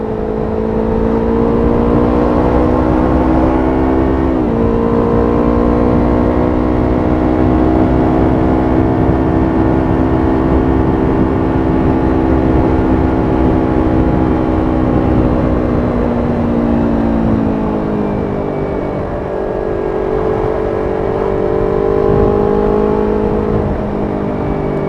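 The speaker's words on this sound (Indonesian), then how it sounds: "Waduh, truk ayam aja." A chicken truck on the road gives a steady, loud engine drone for the full stretch, its pitch dipping and rising a few times as it moves along. No one speaks.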